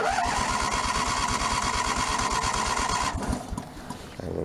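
A 1997 Snapper mower engine cranks with a rapid, rhythmic chugging for about three seconds, then cuts out into quieter mechanical noise.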